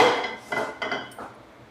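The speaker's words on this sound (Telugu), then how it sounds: "కళాయి తీసుకుందాం అన్నమాట" A metal kadai frying pan is picked up and set down in a home kitchen, ready for roasting urad dal for sunnundalu, giving a few close, light metallic clinks and knocks with no talking.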